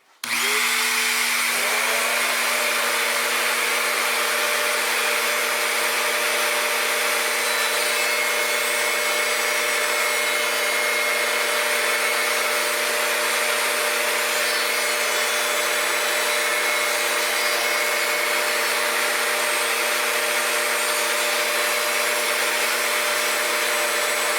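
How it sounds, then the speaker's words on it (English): Power sander running steadily on a glued leather tomahawk cover, a loud continuous whine with a rough abrasive hiss that starts abruptly and holds for the whole stretch without talk. "the glue has dried, so let's go ahead and sand this down"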